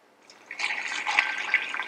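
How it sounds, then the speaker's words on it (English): Cloudy liquid strained from crawfish shells is poured into a pot of roux for crawfish bisque, a close, steady splashing stream that starts after a brief quiet moment and continues to the end. "we're going to take some of the liquid that was strained from the shells."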